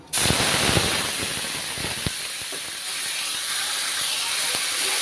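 Onion paste fries in hot oil with a loud, dense hiss and crackle, steady throughout, with scattered sharper pops and a faint scrape of stirring.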